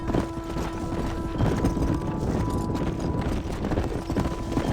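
Horses' hooves clip-clop steadily in Red Dead Redemption, a dense continuous clatter of several animals walking close by over a low ambient bed.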